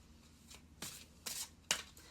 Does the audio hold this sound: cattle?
no